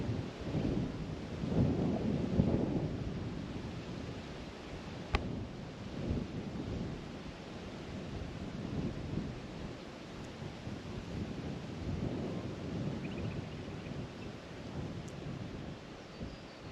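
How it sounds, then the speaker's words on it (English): Strong wind buffets the microphone in a continuous low rumble, gusting louder near the start and then holding steady. "It's a little windy, I'm being a bit buffeted."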